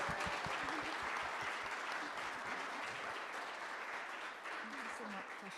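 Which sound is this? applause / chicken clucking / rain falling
applause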